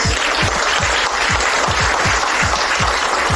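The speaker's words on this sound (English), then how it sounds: "So I want to give her a big round of applause." A large audience at a gathering of Black men gives a sustained round of applause, a dense, steady wash of many hands clapping at once, loud and continuous throughout with a low rhythmic thumping underneath.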